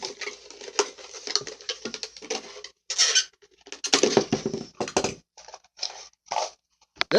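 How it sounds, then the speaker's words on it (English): An X-Acto knife cuts around the top of a 2 liter plastic bottle just above the label, giving a close series of irregular scraping, crackling and squeaking bursts with short pauses between them. "we just stick in an X-Acto knife and we basically cut right above the top of the label"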